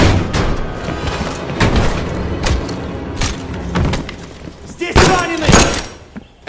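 In the Call of Duty: Cold War campaign, a door is opened with heavy thuds and slamming knocks, mixed with rumbling game ambience and a few sharp impacts.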